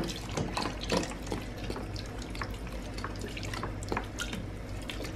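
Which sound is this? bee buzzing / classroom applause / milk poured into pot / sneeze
milk poured into pot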